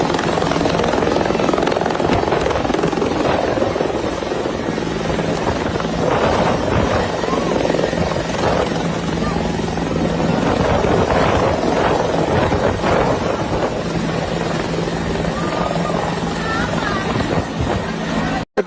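A helicopter drops aid supplies as it passes overhead. Its rotor churns in a steady, loud drone mixed with wind buffeting, and voices talk underneath throughout.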